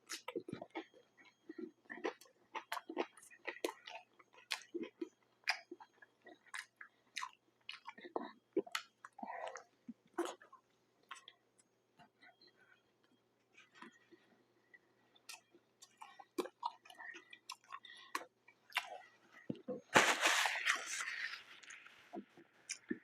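Close, wet chewing and crunchy bites of McDonald's food, fries, a burger and a Big Mac, in irregular bursts with small clicks, then a louder rustle or crinkle near the end.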